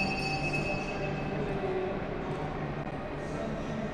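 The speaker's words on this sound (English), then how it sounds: "So sorry about that noise. There's the kids train around here" Children's ride-on train rolling through a shopping mall in Henderson, Las Vegas, a steady mechanical rumble with a faint whine, moderately distant and continuous in the mall's ambient hum.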